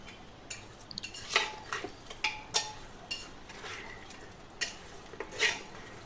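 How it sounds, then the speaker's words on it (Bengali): Marinated meat for biryani, slicked with a little oil, worked and squished by hand in a bowl, giving soft wet squelches and a few light clinks of the dish, spread irregularly across a quiet background. "আমি সুন্দর করে মাখাচ্ছি মাংসটা"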